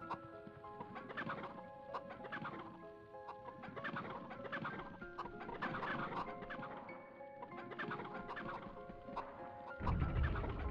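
Chickens cluck in a farm area of the PS1 game MediEvil, a steady busy flock of bird calls layered over continuous game music, with a low thump near the end.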